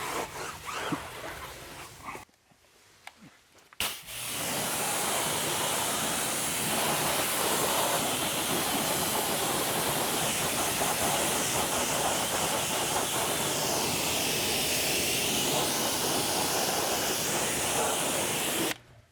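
A spray of water rinses a car wheel, a loud, sustained hiss that starts abruptly after a short quiet gap and holds steady at close range until it cuts off near the end.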